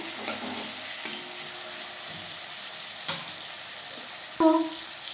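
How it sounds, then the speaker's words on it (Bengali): A bay leaf, an onion and tomatoes fry in hot oil for a potato chicken curry, giving a steady close sizzle with a few faint clinks and one sharp metallic tap near the end. "তেল গরম হয়ে গেছে, দিয়ে দিলাম একটা তেজপাতা, একটা পেঁয়াজ, 2টো টমেটো।"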